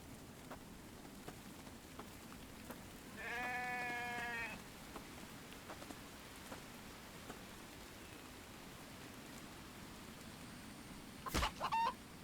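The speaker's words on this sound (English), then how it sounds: "there's the chicken. I would like to get the chicken." Farm animal calls in a survival video game: a short bleat like a lamb's near the middle of a quiet ambient bed, then a brief chicken cluck near the end, both moderately faint with long gaps of background hum.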